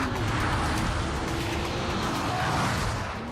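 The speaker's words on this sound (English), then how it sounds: "This is the GTR. Brutal acceleration." A Nissan GT-R accelerating hard, a dense, loud, continuous roar of engine and road noise that holds steady throughout without a break.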